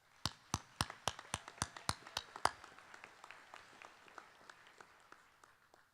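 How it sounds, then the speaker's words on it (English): Hands clap for college trustees at a commencement ceremony, starting as a few close, sharp, evenly spaced claps that give way to fainter, scattered clapping further off. "I want to give them a round of applause"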